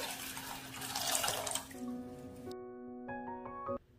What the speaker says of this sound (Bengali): জলটা একটা সসপ্যানের মধ্যে আমি ঢেলে নিচ্ছি।